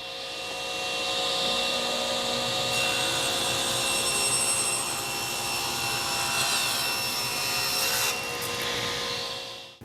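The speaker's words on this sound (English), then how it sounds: "So ripping white oak that's about 7/8 of an inch thick" A table saw fitted with a Freud Diablo general purpose blade rips through white oak about 7/8 inch thick, a steady close whining cut that holds for most of the stretch before tapering off at the end.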